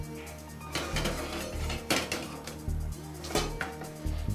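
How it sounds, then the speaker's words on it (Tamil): A metal kadai is set down on a kitchen stove, giving a few loud clanks and scrapes of cookware, close and clear with a short pause between knocks. "இன்னொரு அடுப்பை பற்ற வச்சு கடாய் வைக்கலாமா?"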